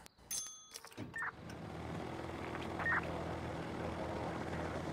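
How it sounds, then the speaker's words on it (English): A helicopter in a video game is being started: a few clicks and rattles come first, then a low engine drone rises and settles into a steady hum with faint chirps over it. "it's so shit trying to start my heli"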